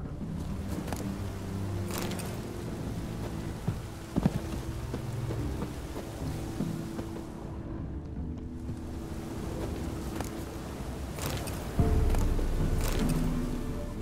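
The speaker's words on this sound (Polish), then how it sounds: "No to rozpadało się na dobre." Steady rain pours in The Witcher 3, a dense continuous hiss with soft low rumbles and a brief lull midway before the downpour swells again, loud and close.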